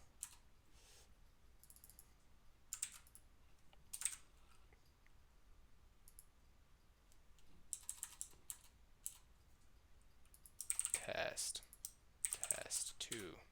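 Keys clatter on a computer keyboard in quiet bursts with pauses between, a coder working in an otherwise still room, the clicks faint to moderate and picking up in denser flurries toward the end.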